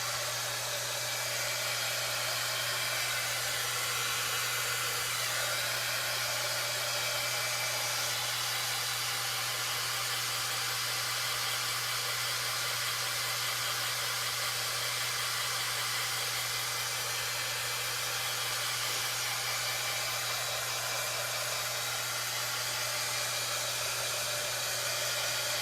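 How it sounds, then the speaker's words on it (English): A handheld craft heat tool blows continuously while drying a baby gift project, giving a loud, steady airy roar with an underlying low hum that lasts throughout, uninterrupted. "heat tool. And get this all dried up."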